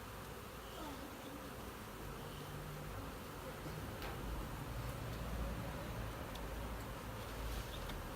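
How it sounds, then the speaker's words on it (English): Honeybee swarm buzzing close around a person collecting it, a faint but continuous hum of many bees with occasional light ticks and no clear speech. "I got bees all over me"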